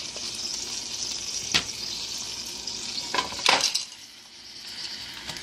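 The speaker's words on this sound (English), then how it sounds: "when you are dunking them in the grease and you're just frying them up like that" Fish fries in grease on a stove top, giving a steady bright sizzle with several sharp spattering pops and a brief stir or utensil scrape, with no talking.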